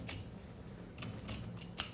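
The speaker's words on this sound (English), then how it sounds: "And I just cut the middle fabric and the backing fabric." Scissors snip through the middle fabric and backing fabric on the back of an embroidery hoop, giving about five short, crisp cuts spaced irregularly against a quiet room.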